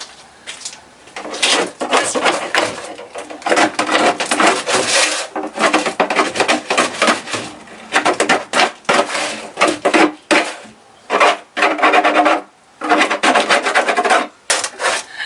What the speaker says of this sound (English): I've decided not to use a sandpaper but a knife.